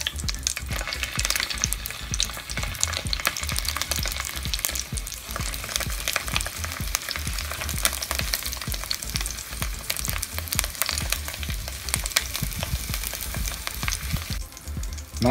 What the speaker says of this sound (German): Wir geben jetzt ein bisschen Öl hinein, schnappen uns unsere Tim Mälzer Zange und fangen an, die Bratwürste anzubraten.